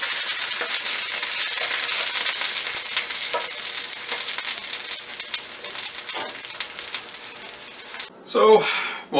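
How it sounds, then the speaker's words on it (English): A sausage frying in a hot pan with a little fat gives a steady, dense sizzle and crackle that runs nearly the whole time, with a few soft clinks and a brief louder scrape near the end. "So we got a hot pan here, a little bit of fat in it, and we're going to cook up one of our sausages"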